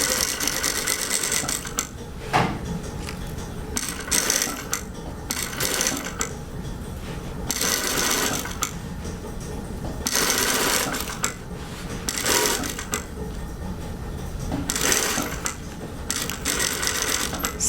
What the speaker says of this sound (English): stitch all the way down as far as you can go, back tack, and cut your thread off